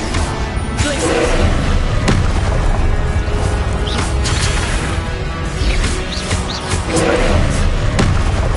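Glacius freezing spell cast in Hogwarts Legacy, heard as a dense, loud burst of booming and crashing effects amid continuous spell-combat noise.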